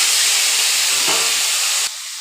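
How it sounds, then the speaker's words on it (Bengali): Taro stolons fry in hot oil, giving a loud, steady hiss like steam that cuts off sharply near the end and leaves a quieter background. "মই এই লটিখিনি অকণমান ফ্ৰাই কৰি ল'ম আগতে"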